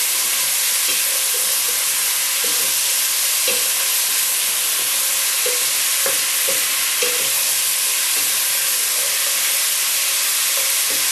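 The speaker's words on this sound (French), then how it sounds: "On va laisser mijoter tout ça pour qu'elles deviennent toutes rouges nos écrevisses." A pot of crayfish cooks down for a bisque with a loud, even hiss and bubbling that runs the full length, broken by occasional clicks and scrapes of stirring.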